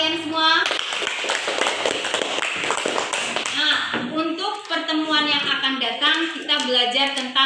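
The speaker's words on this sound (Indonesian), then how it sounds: "Tepuk tangan untuk kalian semua." Students clap together in a classroom, a rapid run of sharp claps for a few seconds before a voice takes over and speaks and sings through the rest.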